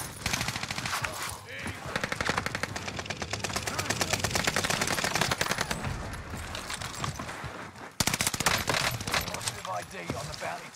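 A UGM-8 light machine gun fires in long, rapid, sustained automatic bursts in Fortune's Keep, loud and close. A short pause comes near the end before firing resumes, with a player talking over the gunfire.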